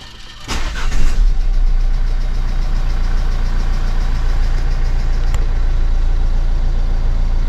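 A Nissan Qashqai J11 1.6 dCi engine cranks and catches, then settles into a steady, loud, close idle with a low, even drone and no talking.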